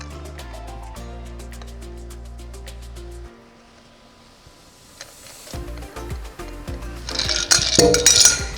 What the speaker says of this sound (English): I'm going to strain it into an old-fashioned glass.